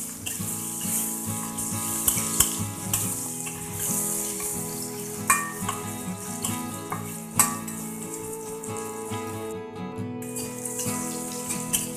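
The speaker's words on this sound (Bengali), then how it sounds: "এবার তেলটা গরম হয়ে গেলে বেগুন আর আলুগুলো ভেজে নেব" Eggplant and potato pieces seasoned with salt and turmeric fry in hot oil, a steady close sizzle with occasional louder crackles and stirring clatter, no talking.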